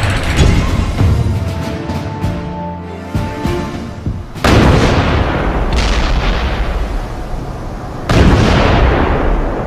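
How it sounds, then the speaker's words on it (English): Heavy naval bombardment and artillery fire on Tarawa in 1943: continuous loud booming and rumbling blasts, with sharp fresh detonations breaking in about every four seconds over a dense roar, no voices. "the American attack begins with a massive naval bombardment"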